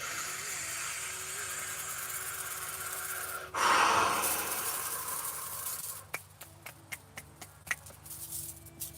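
One deep, close breath is drawn in through the nose and mouth, a brief rushing inhale over a quiet room hum, followed later by soft scattered clicks.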